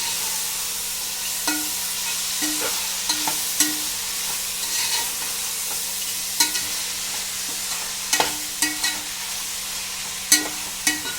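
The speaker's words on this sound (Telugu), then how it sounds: "ఒకసారి కలుపుకుందాము. చూసారా ఇలా కలిపేసుకోవాలి." A spoon stirs broad beans and tomato curry in a pan, scraping and knocking against the metal in irregular strokes over a steady low sizzle, close by with no talking.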